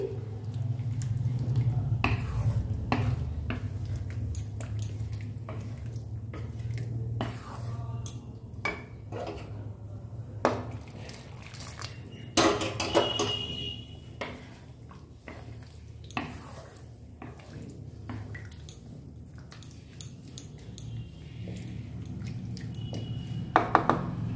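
Rice being stirred by hand with warm water in a kitchen pot gives soft wet squishing, sloshing and occasional light clinks against the vessel, steady and close under low background hum.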